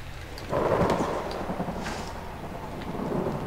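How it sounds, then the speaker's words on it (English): Video game thunder rumbles low and heavy as steady rain pours down, with scattered drops pattering close by throughout. "Ooh, it's raining."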